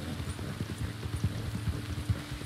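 Quick, steady horse hoofbeats in Red Dead Online clatter in a galloping rhythm over a low background rumble, fairly close and moderately loud.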